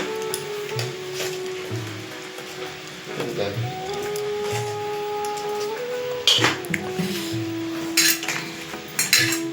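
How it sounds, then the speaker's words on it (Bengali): Taro pieces are tossed with turmeric and salt in a metal dish, giving scattered scraping and clinking of a utensil against the bowl with faint thuds, moderately near, with no voices. "এবারে কচুটাকে একটু হলুদ আর লবণ মাখিয়ে নেব।"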